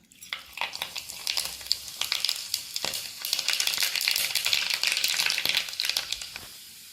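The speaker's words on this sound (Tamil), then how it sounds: "இப்போ கடுகு போட்டுடலாம்." Mustard seeds fry in hot sesame oil, a busy crackling sizzle with rapid popping that builds and stays steady, close and alone.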